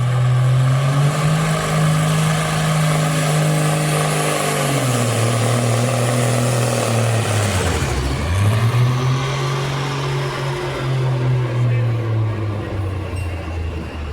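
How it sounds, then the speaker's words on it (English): A Freightliner pulling truck roars loudly at a truck and tractor pull, its engine droning steadily, dipping sharply mid-pass, then recovering to a sustained heavy roar, with no talk over it. "The truck sounded good off the starting line."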